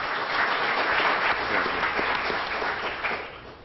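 Audience applause fills a 1992 Law Day ceremony, a dense, steady wash of many hands clapping that holds loud and even throughout before tapering slightly at the end, with no voices over it.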